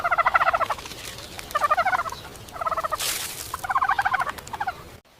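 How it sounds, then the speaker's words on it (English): Several turkeys gobble in four or five rapid rattling bursts, loud and close, with a brief noisy flutter between calls and no voices. "These are turkeys."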